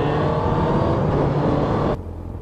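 A loud, close engine roar from a car going past, holding steady for about two seconds before abruptly dropping to a quieter hum.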